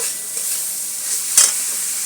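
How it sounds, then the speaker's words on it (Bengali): Grated carrot frying in ghee in a pan, a soft continuous sizzle with a faint stirring scrape and one brief sharper clink near the end, heard alone without talk. "এইবারে এই গাজরটাকে একটু ঘিয়ের সাথে ভেজে দেবো ভালো করে"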